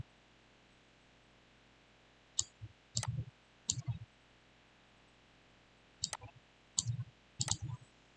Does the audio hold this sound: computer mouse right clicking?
yes